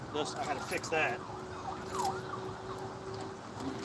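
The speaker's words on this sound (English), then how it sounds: "as you can hear the sirens in the background" A faint wailing siren rises and falls in the distance beneath nearby talking and road noise.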